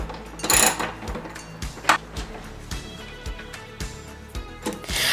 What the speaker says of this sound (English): And then remove the screws holding down the washer tank.